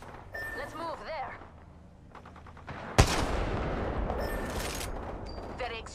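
Gunfire in the game Apex Legends, with a sharp loud shot followed by a dense rattling burst of automatic fire, while game voice lines and electronic tones play over it.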